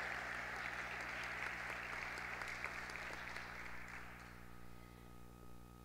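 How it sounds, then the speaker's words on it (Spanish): Steady applause from an audience at a high school graduation ceremony, a sustained crowd of clapping that fades gradually toward the end, fairly distant and soft. "reiteramos el aplauso entonces"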